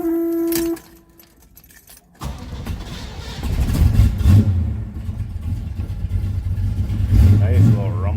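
A 1969 Pontiac Firebird convertible's engine cranks, catches and settles into a loud, steady low rumble with a few throttle blips, following a brief jingle of keys and a moment of quiet.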